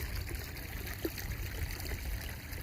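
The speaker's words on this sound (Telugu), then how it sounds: "నీళ్ళు వస్తున్నాయి ఒక మడి పట్టింది" Irrigation water flows steadily into a flooded paddy field in the morning, a faint continuous trickle and gurgle with no speech.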